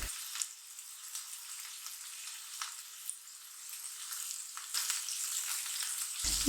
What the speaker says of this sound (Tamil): இந்த வெங்காயம் கறிவேப்பிலை எல்லாம் நல்லா வதங்கணும்.